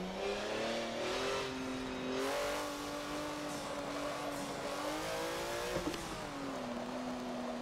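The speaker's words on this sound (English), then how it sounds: "This Porsche sounds so amazing." A Porsche in the racing game Forza 7 revs hard, its engine note climbing and dipping in a continuous, loud howl with no voices over it.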